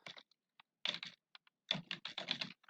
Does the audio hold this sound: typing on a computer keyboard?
yes